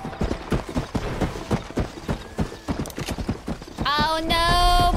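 Horse hooves clip-clop in a steady rapid rhythm in the Red Dead Redemption video game, followed near the end by a loud, close neigh, with faint voices in the background.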